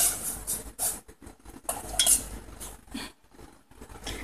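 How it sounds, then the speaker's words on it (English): Metal spoon stirring grated apple into milk in a pot for Kashmiri apple kheer, with repeated clinks and scrapes against the pan, close and moderately loud with no talking. "we will put the grated apple into that milk and again stir it."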